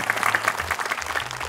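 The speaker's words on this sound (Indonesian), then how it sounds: "Boleh kamu tepuk tangan, ayo." Children in a classroom clap together in a steady burst of applause, a brief, fairly loud spatter of many small hands.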